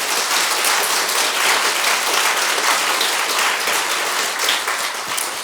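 A church congregation claps together during a Sunday afternoon service, a loud, continuous, even roar of many hands filling the room without pause.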